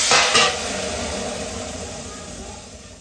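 Asafoetida and chutney drop into a hot pan for Gujarati dal dhokli, with a sudden loud sizzle at the start that settles into a steady, fading hiss.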